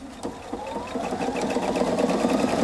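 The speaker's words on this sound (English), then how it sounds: "You mark your fabric, start sewing." A Husqvarna Viking Opal 690Q sewing machine stitches a manual buttonhole, its rapid needle clatter and motor hum building steadily and running close and continuous with no talk.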